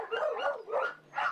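Shelter dogs just arrived by truck bark in a rapid series of three or four yelping barks, moderately loud with a faint hum underneath.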